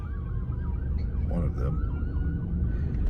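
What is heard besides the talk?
emergency vehicle sirens outside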